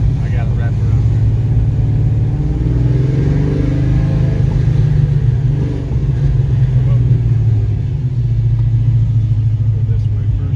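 A 427W-powered Fox Body Mustang driving for the first time, its engine rumbling loud and steady with low revving throughout, close up, while people talk over it.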